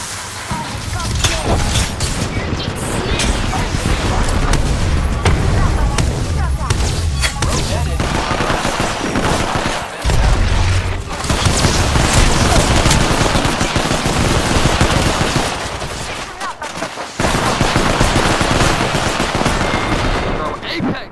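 Apex Legends firefight: close, loud bursts of automatic gunfire and single shots run almost continuously, layered with game effects and occasional impacts, while voices talk over the action.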